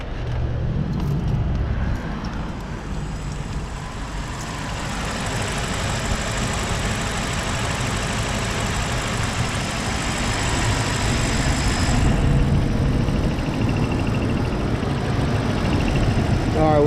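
A BMW 745Li engine idles steadily just after start-up, a continuous low rumble with a faint knocking texture, close and moderately loud for the whole stretch, with a slight rise near the end.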